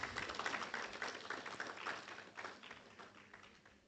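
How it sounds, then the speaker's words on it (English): A room of listeners applauds a speaker at a public address on the Office of the Special Prosecutor: soft, continuous clapping from many people, fairly distant, slowly fading over a few seconds. "Please, a round of applause for him again."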